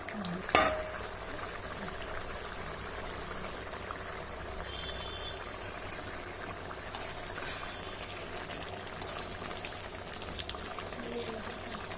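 A pot of potato and pea curry with coconut simmers and bubbles steadily at low volume, a soft continuous boiling with faint kitchen noise throughout.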